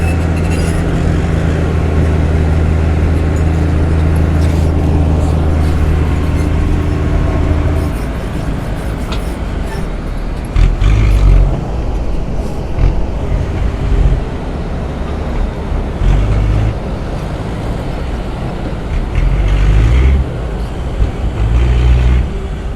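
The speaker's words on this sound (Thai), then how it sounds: "รถขุดมีจำนวนมากนะครับ" Ten-wheel dump trucks and excavators working at a dirt dump site, with a constant heavy diesel rumble, engine surges and clanks, fairly loud and continuous.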